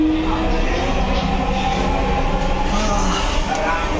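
A metro train running on the line with few passengers aboard, a steady low rumble and hum with a faint high whine, constant and close, as heard from inside the carriage.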